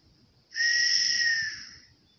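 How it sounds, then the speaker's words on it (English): A small handmade whistle cut from a piece of elder wood, blown once in a single clear, steady high tone that swells up, holds for about a second, then fades, with a faint rumble beneath. "fashioning himself a small whistle, he put that to his lips"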